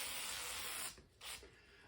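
WD-40 sprays from an aerosol can onto a table saw's metal top in a loud continuous hiss that stops abruptly, followed by one short second burst.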